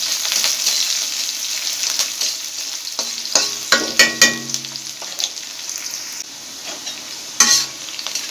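Potato, eggplant and greens frying in a pan, a steady close hiss of sizzling oil with a few louder stirring scrapes and clinks around the middle, no voices.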